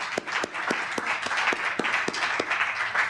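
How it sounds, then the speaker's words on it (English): A small audience claps after a reading at a 1997 poetry recital in a San Francisco public library. The claps are sparse and distinct, with a few sharp individual hands over a softer wash. "let's give him another great round of applause there"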